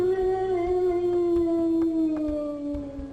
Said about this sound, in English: He hears a loud howl coming from one of the corridors.